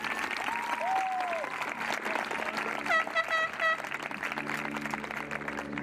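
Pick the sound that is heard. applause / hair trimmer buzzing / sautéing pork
applause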